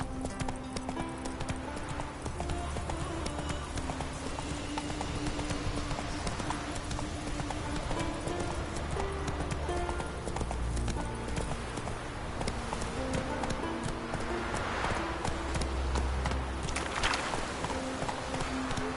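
The horse Roach from The Witcher 3 game, steady rhythmic clip-clop of hooves at a trot, continuous and close, with game ambience and music behind and an occasional faint snort.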